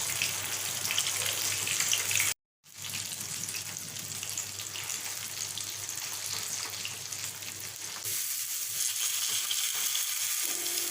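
Masala-coated raw banana slices frying in hot oil give a steady, dense sizzling hiss that runs continuously, broken only by a brief cut near the start, with no talking.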